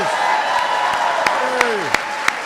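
A ceremony audience applauds honorees at a national science and technology medals event, steady clapping with a few sharp claps standing out and a speaking voice running over it.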